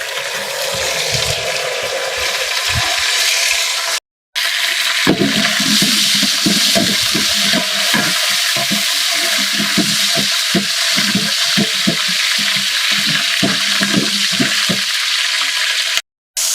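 Dried red chillies, tempering seeds and curry leaves sizzle and crackle loudly in hot oil for a large batch of drumstick sambar. The frying sounds continuous and close, with a couple of brief silent gaps.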